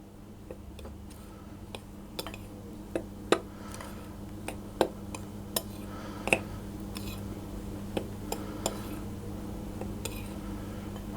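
Dry flour, ground cinnamon, baking powder, baking soda and salt stirred together in a bowl, making quiet irregular ticks and light taps of the utensil against the bowl over a low hum.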